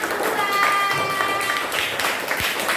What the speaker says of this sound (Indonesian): Oke, tepuk tangan untuk kelompok 2.